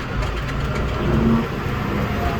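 A large dump truck engine runs steadily at a quarry, a close, continuous low rumble idling without change and with no talk over it.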